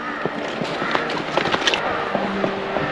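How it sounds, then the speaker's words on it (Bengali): Horse hooves clop unevenly along a mountain trail near Doodhpathri, Kashmir, a string of light irregular knocks over steady outdoor noise, with soft voices now and then. "আর এই পাহাড়ের মধ্যে দিয়ে আমরা ঘোড়ায় করে যাচ্ছি।"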